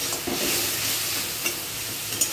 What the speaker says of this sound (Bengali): মশলাটা কষিয়ে নেব, সামান্য জল নেব, ভালো করে এটা কষিয়ে নেব।